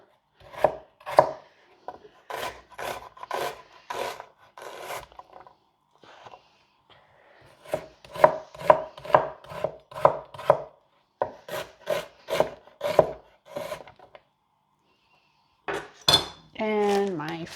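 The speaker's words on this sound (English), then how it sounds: "just gonna chop up this onion" An onion being chopped on a cutting board, with steady bursts of close knife strikes that pause briefly mid-way and resume, and a short voiced sound at the very end.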